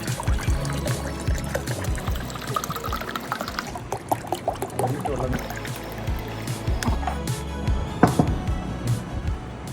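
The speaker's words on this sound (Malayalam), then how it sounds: "നമ്മൾ നേരത്തെ ഒഴിച്ച് വെച്ച ജെല്ലിനകത്തേക്ക് 1 ലിറ്റർ വെള്ളം ഒഴിക്കുകയാണ്" One litre of cold water pours onto passion fruit gel in a container, making an uneven, splashing gurgle with irregular bursts close by and no talking.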